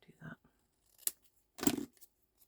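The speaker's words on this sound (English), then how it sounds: "I'm at a point where I just want to use the scissors" Scissors snipping through scraps of patterned designer paper while making greeting cards, giving two clear close cuts, one short and one longer, with brief soft handling sounds between them.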